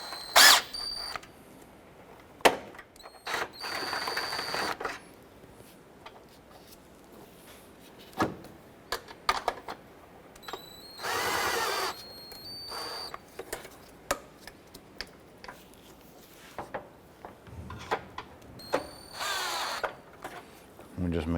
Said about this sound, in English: Just going to go ahead and snug our bolts down.